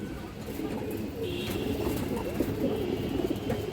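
Several pigeons coo softly and continuously nearby, including a black female pigeon, a low rolling murmur with a faint high hiss behind.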